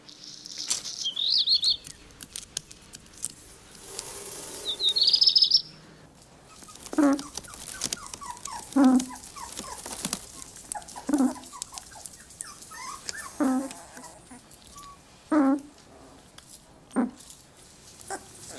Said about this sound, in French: les chiots, en noir et blanc, commencent à regarder le monde